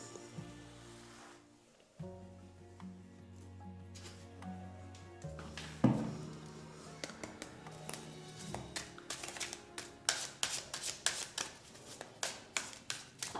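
Tarot cards are shuffled and drawn by hand during a reading, first under soft music, then as a run of quick, close taps and riffling flicks in the second half.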